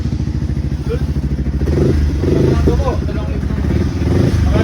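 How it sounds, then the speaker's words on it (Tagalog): Motorcycle engine running on a street, a loud steady chugging idle with rhythmic pulsing that swells and roughens partway through, with a voice talking underneath. "Gagamitin namin tong motor."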